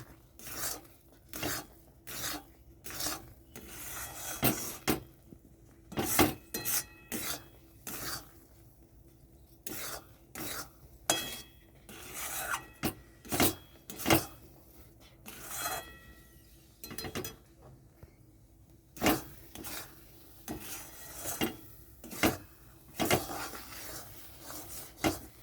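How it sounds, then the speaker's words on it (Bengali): A spoon scrapes and stirs thick chocolate semolina around a pan in a steady rhythm of close, rasping strokes, repeated again and again with brief pauses between bursts. "এটাকে বারবার এরকম নাড়তে থাকবেন, তা না হলে তলায় সুজিটা লেগে গেলে তিতো হয়ে যাবে।"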